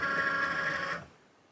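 A craft cutting machine draws the mat in with a steady mechanical whir and hum for about a second, then stops, leaving a quiet room.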